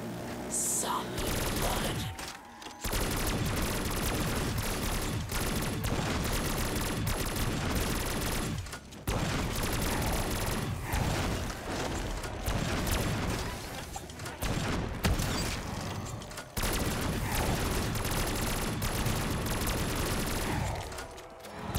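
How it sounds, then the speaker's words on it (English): Video game Gatling gun fires in long, dense sustained bursts, loud and close, broken by a few brief pauses, with faint voices under the barrage. "I got a Gatling gun, I'll buy us some time."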